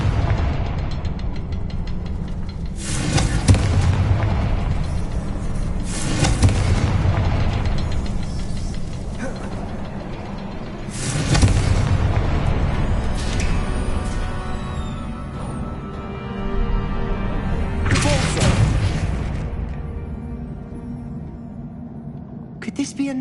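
Repeated blasts of the Confringo fire spell in Hogwarts Legacy: four loud, broad bursts spaced a few seconds apart, each decaying over a rumbling, humming game background.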